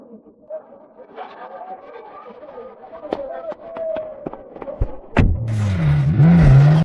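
A sports car pulls away after voices talk, its engine rising abruptly into a loud, close roar that surges and revs at the end.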